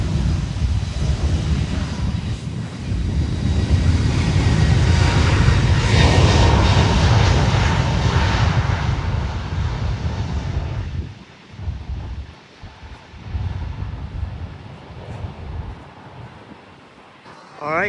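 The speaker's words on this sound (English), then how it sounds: "Wow, that's what I call a full power takeoff." An Airbus A321neo jet makes a full power takeoff from runway 8, a loud roaring engine rumble swelling and holding with wind buffeting, then fading as it climbs away, with a voice talking over it.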